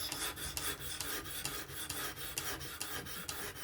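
A Kizer October knife with 20CV steel being honed on a Work Sharp Professional Adjust sharpener, a close, steady rasping scrape repeated in even strokes about every half second.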